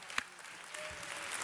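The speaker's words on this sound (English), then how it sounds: "Let's give them all a big round of applause." Brief audience applause for Soul Train dancers from the 70s through 2000s at a Los Angeles event, a soft wash of clapping from a moderately distant crowd lasting just over a second.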